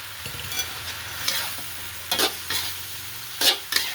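Mackerel stir-fried in a hot pan, a steady bright sizzle with several scraping stirs of a spatula every second or so, close and fairly loud.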